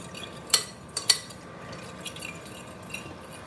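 A fork stirs water into homemade pizza dough in a bowl, giving a few sharp metallic clinks early on, then soft quiet scraping and mixing, close and faint.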